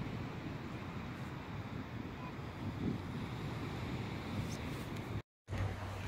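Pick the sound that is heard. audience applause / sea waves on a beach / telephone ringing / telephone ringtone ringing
sea waves on a beach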